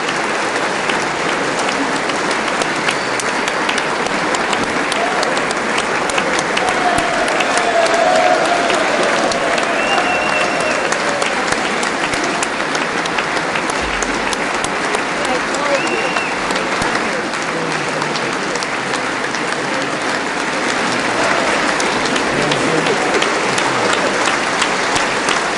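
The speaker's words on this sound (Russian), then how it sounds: "Выступление Владимира Зеленского перед Конгрессом Соединенных Штатов Америки, которое прерывалось на аплодисменты более 20 раз." Members of the US Congress give Volodymyr Zelensky's speech a loud, sustained ovation of dense applause from a large chamber crowd, steady and unbroken for the whole stretch.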